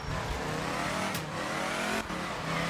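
Lancia Fulvia rally car engine in the Art of Rally game, a loud continuous revving drone rising in pitch as it accelerates, with brief dips at gear changes.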